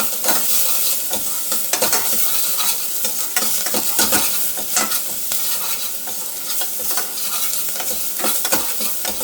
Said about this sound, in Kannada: ಒಂದೆರಡು ನಿಮಿಷ ಈ ಥರ ಆಡಿಸ್ಕೋಬೇಕಾಗತ್ತೆ